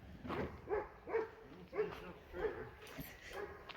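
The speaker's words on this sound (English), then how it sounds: "Except listening to your dog bark." A dog barks about six times at a steady pace, moderately close, with people talking around it and some background noise.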